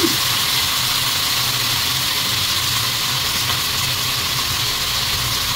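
Chicken fries in hot oil in a pan with a loud, steady, close hiss and sizzle that continues unbroken throughout.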